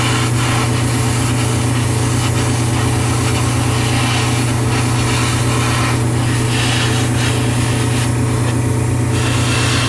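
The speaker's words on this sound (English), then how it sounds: "I'm not opening my airbrush up all the way because I'll just flood and you get a run." Airbrush hissing steadily as it sprays paint onto a 1/72 scale Jagd Doga model kit, a continuous close airy spray over a low constant hum with no pauses.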